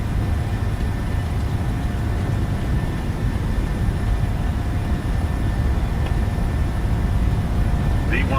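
A Norwegian airliner's engines roar on the takeoff roll in Microsoft Flight Simulator 2020, a loud, steady broadband rumble that holds without pause from start to finish.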